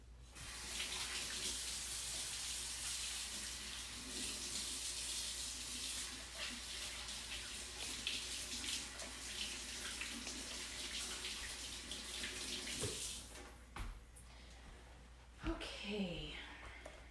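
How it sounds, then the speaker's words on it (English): Kitchen tap runs steadily while hands are washed, a broad continuous rush of water that stops near the end, followed by a few clunks and faint handling sounds. "I'm gonna wash my hands."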